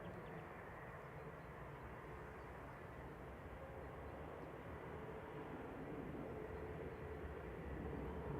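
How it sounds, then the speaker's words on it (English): A Jet2 airliner taxies out at Manchester Airport, a steady low engine rumble holding at a distance throughout with no talk over it. "The Jet2 to Malaga's taxiing out."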